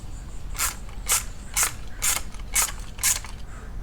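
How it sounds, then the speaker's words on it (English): A 1/2-inch socket wrench ratchets while tightening a bolt on a DIY Harbor Freight manual tire changer: six evenly spaced, crisp clicking strokes up close, with no voices. "let me grab some wrenches and get this tightened up"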